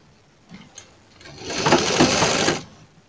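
A sewing machine stitches fabric triangles onto a blouse neckline, a few faint clicks then a steady, moderately loud whirring run of about a second that stops abruptly.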